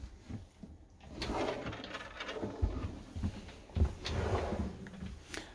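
A drawer in a Frankia F-Line 680 motorhome slides open with a wooden rumble, followed by a few soft knocks and bumps close by, with no talking.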